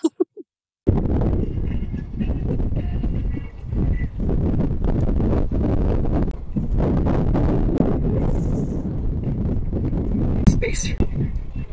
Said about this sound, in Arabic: كل مرة اجي امون لازم يبقى الجو هوا جدا